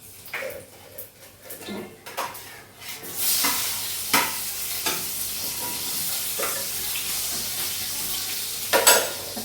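Mustard seeds, garlic and red chilli hit hot oil for a dal palak tempering, giving a loud, steady sizzle with popping crackles and occasional stirring scrapes, rising after a few quieter seconds.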